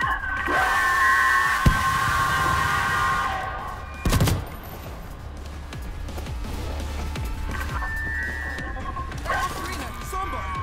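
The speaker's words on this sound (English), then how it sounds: "Grenade going up!" A grenade blast and scattered gunfire in the World War Z video game, with a sharp bang partway through amid a few shots and noisy combat, while players shout over it.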